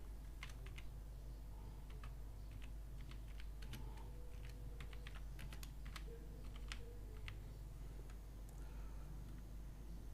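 Steady typing on a computer keyboard while a web-development page is being built, with irregular quick clicks scattered across the whole stretch over a constant low hum and no talk.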